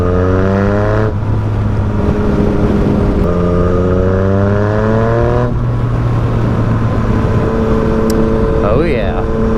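A Yamaha FZ-09 three-cylinder motorcycle engine revs loudly up through its range, dropping and climbing again between gear shifts, close and continuous with a deep, throaty, bassy tone.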